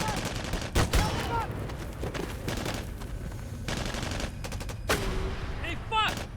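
Gunfire in a war action film ambush scene: rapid bursts and sharp single shots crack over a dense, rumbling battle background, with voices shouting amid the firing.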